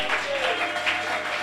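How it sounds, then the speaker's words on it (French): A church congregation acclaiming and applauding together, producing a dense, continuous wash of clapping and cheering voices that fills the whole moment. "Est-ce que tu peux donner gloire à Dieu par les acclamations?"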